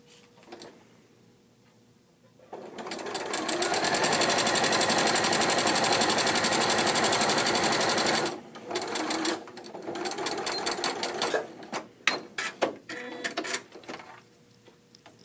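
A sewing machine runs a straight stitch seam on a tunic in one loud, steady burst of several seconds, then continues in a string of short, stuttering stitching runs.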